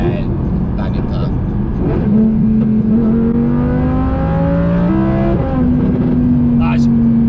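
A twin-turbo Audi R8 with a 600 bhp build pulls hard from inside the cabin, its engine note climbing steadily through gears with loud, continuous roar and brief shift dips, while people talk over it.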